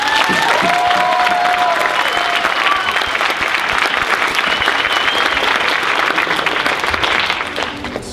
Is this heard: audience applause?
yes